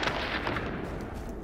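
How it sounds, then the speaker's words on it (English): Gunfire and explosions in the video game The Division's Dark Zone, a dense continuous roar of distant blasts and shots, loud throughout. "There's literally explosions, grenades going off everywhere."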